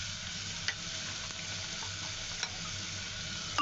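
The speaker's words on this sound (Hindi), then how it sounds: "अब देखिए चिकन को भी हमने अच्छी तरह कर लिया फ्राई" Chicken frying in oil with ginger and garlic in a handi, a soft even sizzle with occasional faint stirring clicks, close and steady throughout.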